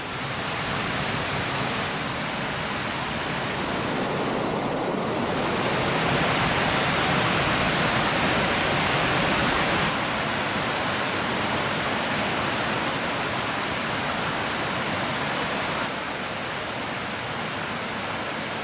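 Steady roaring rush of Cherokee Falls in Cloudland Canyon, Georgia, a dense unbroken wash of water noise that stays even throughout with no voices.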